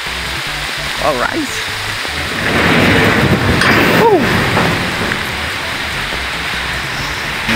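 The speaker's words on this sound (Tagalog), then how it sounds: "Lumakas na nga po ang ulan." Heavy rain pours down steadily in a loud, dense wash that swells stronger midway, with a few voices speaking briefly beneath it.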